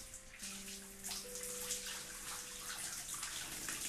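Water pours onto flowers in the video game Homesick, a soft continuous splashing trickle with light bright spatters over quiet steady background tones, no voices.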